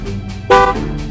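A single short honk from a 2014 Chevrolet Silverado pickup's horn, sounding as a tire pressure sensor relearns, loud and close over a low idling background.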